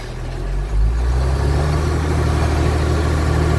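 A heavy M936A2 military wrecker truck engine runs loud and steady with a deep low rumble, its load rising slightly after a brief dip near the start.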